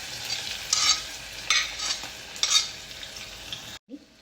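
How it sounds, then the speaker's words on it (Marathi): Cumin and onion frying in hot oil in a kadai, with a steady sizzle broken by several bursts of stirring, close and alone, then a brief near-silent pause at the end. "इथे कढईमध्ये आपण तेल टाकून घेऊयात. इथे जिरे तडतडले की यामध्ये टाकायचा कांदा"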